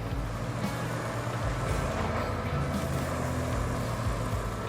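Truck in the video game Roadcraft driving through water on rough terrain: a continuous loud, low engine drone with a churning, washing noise, steady throughout with no pauses.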